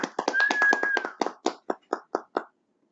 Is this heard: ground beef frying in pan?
no